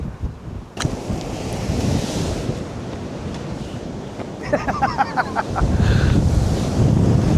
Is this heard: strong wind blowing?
yes